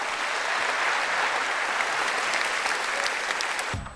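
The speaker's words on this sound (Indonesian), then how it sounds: "Boleh tepuk tangan Agus Harimurti Yudhoyono." A studio audience applauds Agus Harimurti Yudhoyono during a televised talk show, dense steady clapping from many hands held at even loudness for several seconds before it cuts off.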